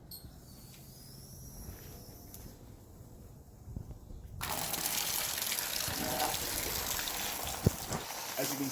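Water streaming from a homemade laminar flow device, starting as a faint trickle and then surging into a steady, full rush of flowing water about halfway through, continuous and fairly close.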